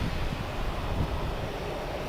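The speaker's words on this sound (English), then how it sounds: "That wind from the north is a bit chilly." Chilly north wind blowing at night across an airport, a steady, broad roar buffeting the microphone with a constant low rumble and no other sounds.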